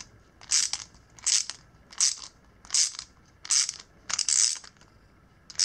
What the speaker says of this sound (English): ratchet